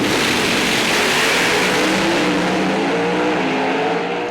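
A Pro Stock drag race car revs hard at a PDRA East Coast Nationals event, its engine a loud, dense, continuous roar close by that fades slightly at the very end.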